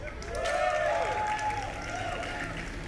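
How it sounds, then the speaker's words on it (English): Crowd cheering and applauding at a StarCraft esports match in an IPL 3 group-stage game, a steady roar of cheers and clapping filling the whole span with some voices mixed in. "give a cheer for Liquid Rhett."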